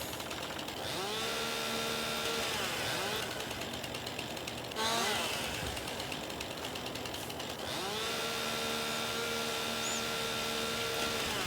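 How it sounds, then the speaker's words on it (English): A chainsaw in Farming Simulator 22 howls through tree felling in loud, sustained revving bursts whose pitch rises and falls, broken by brief drops between cuts, with no talking. "Don't like to talk while the chainsaw is howling."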